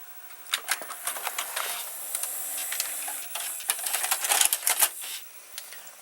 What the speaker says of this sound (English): So now I'm going to press eject at the same time